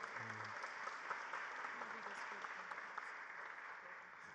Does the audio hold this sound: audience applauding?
yes